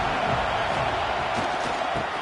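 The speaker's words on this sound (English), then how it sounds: "Listen to this crowd just shaking the girders of this place, trying to help their defense." Roaring stadium crowd in a college football video game, Alabama versus Wisconsin, a steady dense wash of cheering noise filling the whole stretch without letup.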